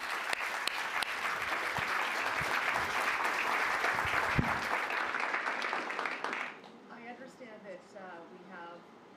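A conference audience applauds after a panel discussion, sustained even clapping for several seconds that stops abruptly, leaving a quieter room where a voice begins to speak.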